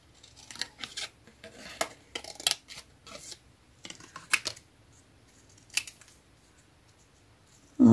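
Scissors snip through paper during a scrapbooking craft, a string of short, crisp cuts in irregular bursts, fairly close and alone with no talk.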